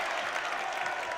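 A gym crowd at a boys' high school playoff basketball game, OLSH against Sewickley Academy, roars and claps in a dense, steady wash of noise for a brief moment.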